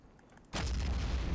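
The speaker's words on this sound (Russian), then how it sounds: "Сотка здесь 3 грохнула" A heavy artillery gun fires in Men of War: Assault Squad 2, a sudden loud boom that cuts in after a quiet moment and rolls on as a dense, sustained rumble.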